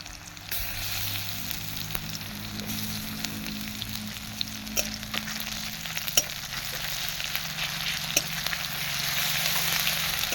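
Chopped onion and garlic paste fry in a hot pan, a steady close sizzle with scattered pops and crackles running throughout, with no voices.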